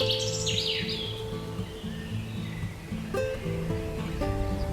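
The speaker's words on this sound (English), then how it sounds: "Painted bunting." A painted bunting sings bright, quick warbling phrases with rising and falling sweeps, set against a steady musical backdrop.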